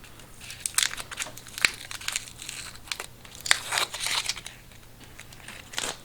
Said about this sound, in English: So I'll just peel the tape off of them all first.